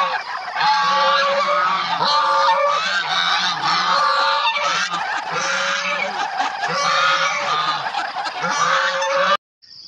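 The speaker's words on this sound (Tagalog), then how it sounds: "Yung ating gansa na maingay." Loud, continuous honking from a flock of farm geese close by, harsh repeated calls overlapping in uneven bursts across the whole stretch, stopping abruptly at the very end.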